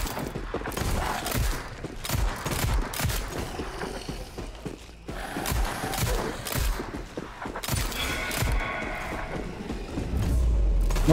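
Rapid gunfire in the video game Sker Ritual, dense bursts of shots and heavy thuds firing almost continuously and loudly throughout, with brief gaps between volleys and no talk.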